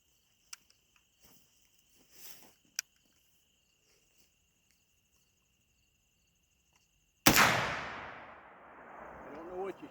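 A black powder gun loaded with 2F powder fires once, a sudden loud blast with a long decaying rumble, after scattered faint clicks and insect chirping outdoors.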